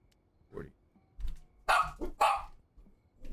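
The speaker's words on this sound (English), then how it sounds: "You guys don't have to, you don't have to be barking." Dogs bark in the video game Schedule 1, a few short barks spread out, then two loud, close barks in quick succession with quieter yips between them.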